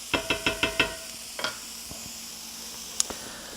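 Onions and garlic stirred in a hot pan, with a quick run of five sharp scraping sizzles in a row, then a single scrape and a few faint taps over a low steady hiss, close and without voices.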